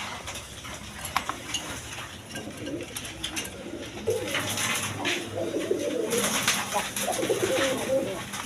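Rasgolla pigeons at a pigeon sale coo in bursts, soft at first and louder later, with clinking metallic knocks and some background voices.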